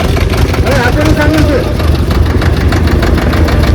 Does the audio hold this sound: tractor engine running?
yes